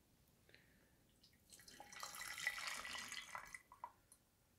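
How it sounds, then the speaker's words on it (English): Hot water, cooled to about 80 degrees Celsius, poured from a beaker into a tea pitcher for brewing sencha, a soft close splashing trickle that builds and then tapers off with a few final drips. "and then we're going to pour it into the pitcher."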